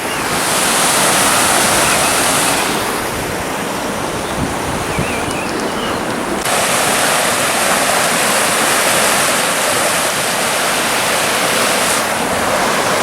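A river rushes under an old railway bridge near a derelict cottage, a loud, continuous broadband wash of flowing water with some wind buffeting, steady throughout with no talking.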